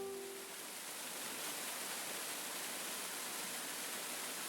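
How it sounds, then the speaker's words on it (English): Steady broadband rush of falling water, like a waterfall, continuous and even with no breaks, heard alone without voices at moderate loudness. "Behold, the wondrous Magic Waterfall."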